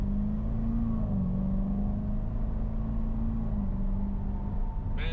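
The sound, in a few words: automatic car accelerating and shifting gears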